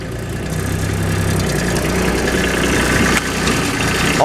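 A Kubota tractor engine idles steadily and fairly loud, with a low, even rumble and slight vibration throughout, no voices present.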